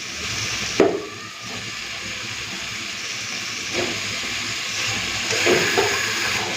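Mutton pieces frying in a pan of hot spiced oil, a steady loud sizzle and hiss running throughout with a few brief louder bursts as the meat is stirred.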